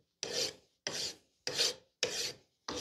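A hand file rasps across metal in five even, steady strokes, each a close, dry scrape with a short pause between, with no voices.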